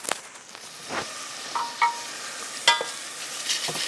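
Onions fry in a pan for lasagna, a steady soft sizzle broken by occasional scrapes and knocks as they are pushed around, close by and with no voices.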